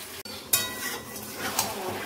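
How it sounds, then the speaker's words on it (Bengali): Chicken pieces in marinated spices and onions are being stirred and fried in a pan for a home-cooked meal, giving a soft, steady sizzle with a few sharp clinks of a utensil against the pot. "তো এই যে মাংসটা কষানো চলছে, ভালো করে কষিয়ে নেই"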